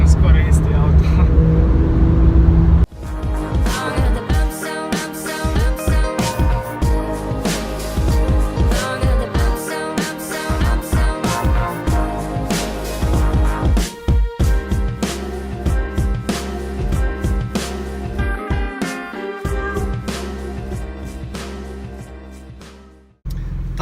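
A Porsche, a 911 Targa GTS or close relative, revs with loud exhaust pops and crackles in rapid bursts, close and dominant, while voices talk over it throughout.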